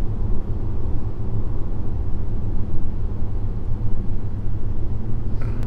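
A train pulling away in the Passenger Train Simulator video game, a continuous low engine rumble with a broad hiss that stays loud and steady the whole time.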